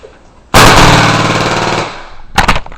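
A paintball pump gun fires with a sharp, loud burst that rings out for over a second, followed by a short cluster of quick impact cracks.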